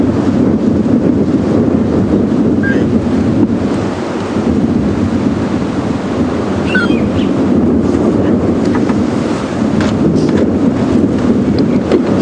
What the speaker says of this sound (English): This windy, cool weather.